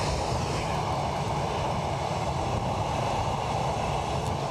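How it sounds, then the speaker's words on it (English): ATR 72-600 turboprop arriving at Edinburgh from Dublin, a steady broad engine roar that holds constant and fairly loud throughout, with no voices. "An ATR 72-600 inbound from Dublin."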